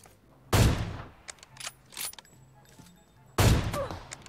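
Gunfire in the mobile battle royale game PUBG Mobile: two sharp, loud shot bursts about three seconds apart, with smaller pops and clicks of game effects between them.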